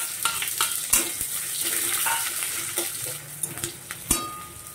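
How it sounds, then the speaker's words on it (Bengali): Sliced onions crackle and sizzle in hot refined white oil as they fry for biryani, a steady broadband hiss broken by scattered clinks and scrapes of stirring, close and fairly loud, with no voices. "এবার আমি ব্রেস্তাটা ভেজে নেব।"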